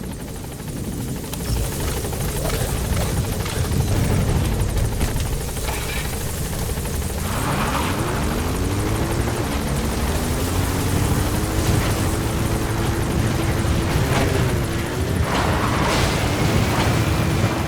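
A support helicopter in Metal Gear Solid V: The Phantom Pain thunders overhead with a constant rotor roar and rising engine whine, loud and continuous, mixed with game effects and faint voices.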